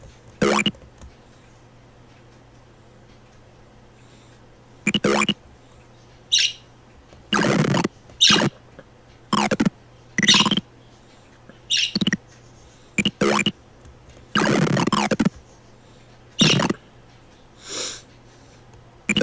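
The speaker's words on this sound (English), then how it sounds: "it's Misty that's chirping right now, because she hears the ones in the back." Misty, a pet bird, chirps in short, sharp bursts scattered across a quiet room, some clustered and some isolated, fairly close and alone without talk.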